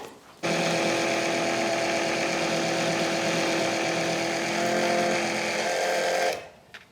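A small pump draws oil out of the engine of a Sea-Doo jet ski recovered after sinking. It makes a steady, buzzing motorized whine that starts abruptly, runs evenly for about six seconds, then cuts off.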